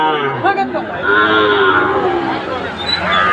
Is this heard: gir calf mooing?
yes